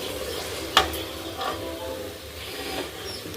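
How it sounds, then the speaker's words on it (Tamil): A tomato rice mixture boiling in a pot, a soft continuous bubbling and sizzling with a few sharper pops and clicks, fairly quiet and close. "கொஞ்ச நேரம் கொதிக்க விடுங்க."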